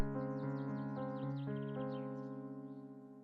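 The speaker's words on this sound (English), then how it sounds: "Sound of chirping birds." Birds chirping in quick, repeated high tweets over a strong, steady tonal hum, the calls fading toward the end.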